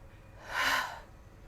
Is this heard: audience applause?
no